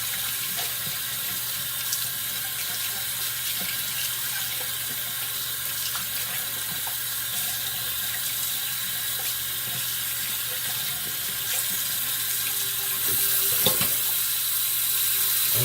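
A RazoRock Hawk safety razor dipped into water in a bathroom sink, with a steady wash of running tap water throughout and a brief splash near the end.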